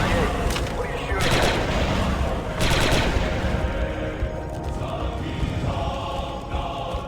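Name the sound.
blaster gunfire in Star Wars Republic Commando, video game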